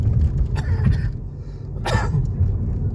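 Two short coughs, one around the middle and a stronger one later, over a steady low rumble of a moving car.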